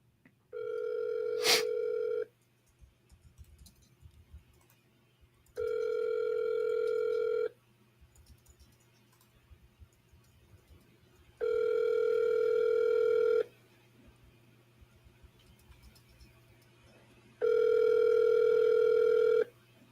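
An outgoing phone call rings through on a line: four evenly spaced ringback tones, each about two seconds long with pauses between, clear and steady over a faint low hum.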